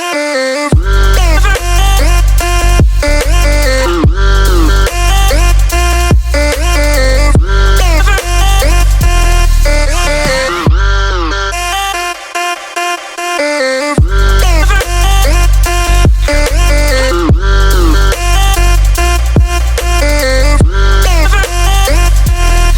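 First drop of a bass music song: dense, loud wobbling bass synths with heavy sub-bass and punchy drums, briefly thinning into a rising sweep mid-way before the full drop slams back in.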